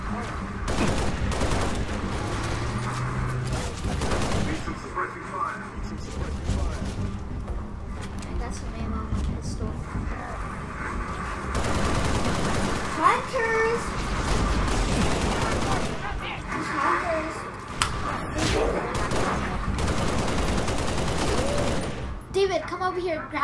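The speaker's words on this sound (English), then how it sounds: "Need some suppressing fire." Rapid bursts of gunfire in a robot-fighting video game, dense repeated volleys that keep going through the stretch, loud and near, with people talking over them.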